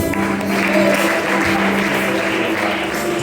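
Steady applause from a church congregation in Castrelos, filling the room evenly and loudly from start to finish, with a low hum of voices and organ-like tones underneath.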